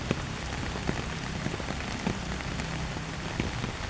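Steady rain falls on a rainy morning, a dense even patter across surfaces with scattered sharper drips, continuous and moderately close, with no voices.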